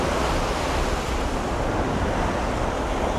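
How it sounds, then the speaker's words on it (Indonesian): Wind and surf on a beach at evening, a dense, steady roar of breaking waves and gusting air, loud and continuous with no voices. "Angin pantai."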